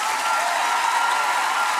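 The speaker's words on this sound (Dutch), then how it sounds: "Geef ze nog een applaus." An audience at a dance-group battle on a Dutch TV show breaks into dense, sustained applause, a loud even wash of many hands clapping with no pauses.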